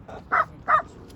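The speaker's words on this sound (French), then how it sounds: "On retrouve le petit chien." A small dog near a classroom in Lijiang, China gives two sharp, close yaps in quick succession against quiet background noise.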